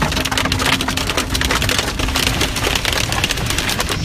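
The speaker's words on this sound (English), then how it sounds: "another afternoon blast of pelting rain" Heavy rain pelting down during an afternoon storm in Sydney, a loud, dense, steady roar of drops battering surfaces with no pauses and no voices.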